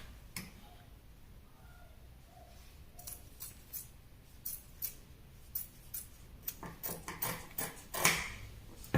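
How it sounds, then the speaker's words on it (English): Scissors cut through skirt fabric folded on a table in a run of crisp snips. The snips are sparse at first and grow quicker and louder toward the end, close by, with no talk. "I'll cut the center front first."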